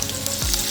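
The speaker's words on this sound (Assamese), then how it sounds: "কেৰাহীখনত তেল গৰম কৰিলোঁ। এতিয়া মই পিঁয়াজখিনি এতিয়া ঢালি দিম ইয়াতে" Onions frying in hot oil in a wok for a snake gourd curry, a steady close sizzle with a brief low thump partway through as food drops into the pan.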